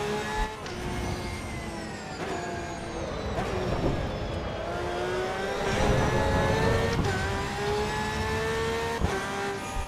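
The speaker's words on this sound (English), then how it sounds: "That downshift was the combination of downshift and hitting the curb." A race car engine in Assetto Corsa EVO on the Nürburgring, revving high and dropping through downshifts with sharp pitch changes and brief bangs, continuous and close throughout.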